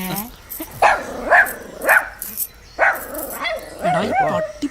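A dog barks several times in short, loud bursts with some yelping, interleaved with people talking nearby in a Malayalam comedy scene.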